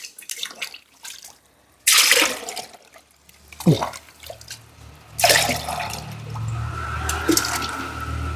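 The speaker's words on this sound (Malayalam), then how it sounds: "ഇതിനകത്ത് ഒരു അഞ്ചിരട്ടി വെള്ളം കൂടി ആഡ് ചെയ്യണം" Water is poured into onion peel syrup to dilute it for a garden spray, coming in a few splashing, gurgling bursts separated by quieter pauses, with dripping and trickling in between.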